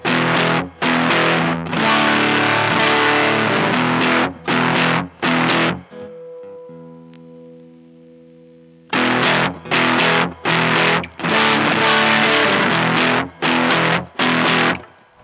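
Rare Japanese Guyatone PS-001 distortion pedal driving an electric guitar: loud, saturated chords strummed in bursts, a short pause of ringing sustain mid-way, then more choppy distorted chord stabs, no talking.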